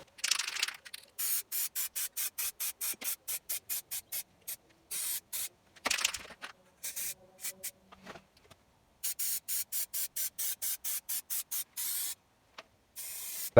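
Anti-rust primer and top coat sprayed onto a VW T4 wheel arch, heard as a long run of short, evenly spaced aerosol bursts with brief gaps, close and fairly loud, with no voices.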